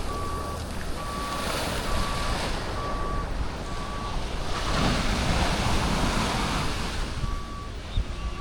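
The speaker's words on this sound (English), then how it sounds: "you're going to be hearing a lot of backup alarms" Evenly spaced truck reversing beeps sound over a steady roar of surf and wind on a Playa del Carmen beach, pausing partway through, then resuming; the beeping sits moderately far off.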